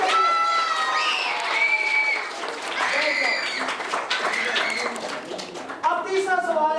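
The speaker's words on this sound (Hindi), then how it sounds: "जवाब दुरुस्त, जरा तालियां चाहिए।" Applause from an audience at a school entertainment program, steady clapping heard under and between a presenter's amplified voice and children's voices.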